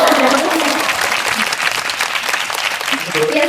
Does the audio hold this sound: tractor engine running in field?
no